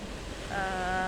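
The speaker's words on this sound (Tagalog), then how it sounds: "Tabing dagat pala" Wind and surf at a seashore make a steady broadband roar close to the microphone, with a faint tonal whine rising partway through.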